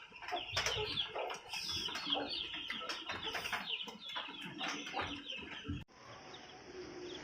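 Backyard chickens cluck and chirp in quick overlapping bursts close by, a busy flock sound that cuts off abruptly near the end, leaving quieter background noise.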